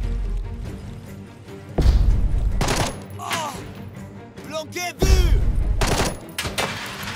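Gunfire from a squad firefight in Jagged Alliance 3: loud bursts and single shots with heavy thuds, rising around two and five seconds, with scattered game sound effects between them.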